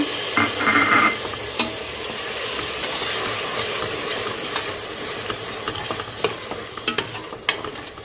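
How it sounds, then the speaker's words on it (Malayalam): Blended tomato for tomato rice bubbling and sizzling in a pan, a dense steady hiss with occasional spoon scrapes and clinks, close up and without voices. "ഇങ്ങനെ തിളച്ചുകൊണ്ടിരിക്കുന്നുണ്ട്"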